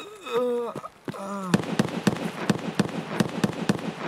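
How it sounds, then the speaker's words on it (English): Gunshots from outside in Escape From Tarkov, a steady run of sharp evenly spaced cracks in the second half, loud and close, after a voice talks over the opening. "Shots are outside, careful."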